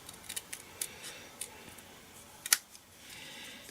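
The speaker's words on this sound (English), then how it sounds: "Now I'm going to just trim this grass in half" Scissors snip through die-cut cardstock grass in a few light, close clicks, with one sharper cut standing out midway and soft rustling of paper around it.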